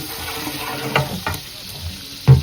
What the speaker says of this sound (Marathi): आपलं तेल टाकलं कांदा तळायचा चाललाय